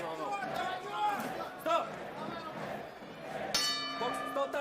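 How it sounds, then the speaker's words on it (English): The round-end bell rings at an amateur boxing bout between two light heavyweights, with bright clanging strikes cutting through crowd noise and a commentator talking over the arena. "And there goes the bell."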